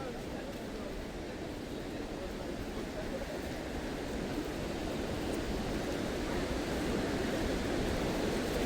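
Athirappalli waterfall roars as a steady, dense rush of falling water that fills the whole clip, broad and unbroken, with some wind buffeting at the microphone.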